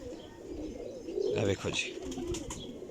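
Pigeons cooing softly near flying-breed birds in a loft, a low burbling coo rising briefly under a voice speaking over them.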